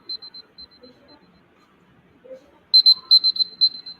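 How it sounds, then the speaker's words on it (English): A presentation time-limit buzzer at a social entrepreneurship challenge panel: a few faint beeps, then a louder burst of rapid electronic beeps near the end, with no talk over it. "Yeah, so the buzzer will sound like this."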